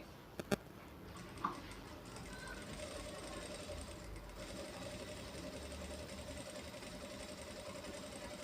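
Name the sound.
industrial sewing machine stitching piping on cloth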